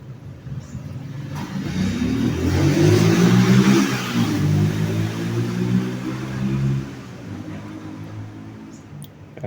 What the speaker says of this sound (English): The neighbor in his motorbike.